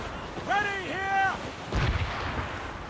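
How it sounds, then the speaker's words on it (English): Ship cannons firing during a naval battle in Assassin's Creed Rogue, a heavy booming volley with rumble, preceded by a voice shouting over wind and sea ambience. "Getting close, Shay. Fire!"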